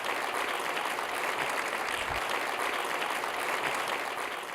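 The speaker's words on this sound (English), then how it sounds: "Give her a round of applause, everybody." Steady, dense applause from a large audience, sustained and fairly loud for several seconds without a break.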